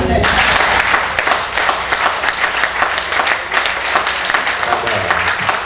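A church congregation applauding together, loud and steady sustained clapping from a crowd throughout, with a voice over the top.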